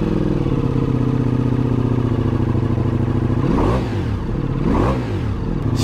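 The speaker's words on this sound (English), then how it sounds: "Just have a listen to this exhaust," A Ducati Multistrada V4S adventure motorcycle idles with a deep, steady V4 engine and exhaust burble, close and loud, then revs sharply twice near the end, each blip rising and falling away.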